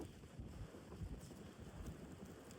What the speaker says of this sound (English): probably wind still gusting over 60 miles an hour